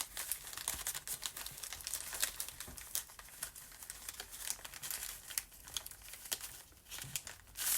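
Coffee-dyed ledger paper being folded by hand for a junk journal gives close, quiet, irregular crinkles and rustles, with soft crackling bursts coming in uneven clusters.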